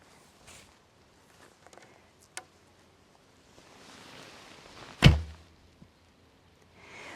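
A traditional bow released in a single sharp thump near the end of a quiet stretch, its string leaving a short low humming vibration that fades out over about a second.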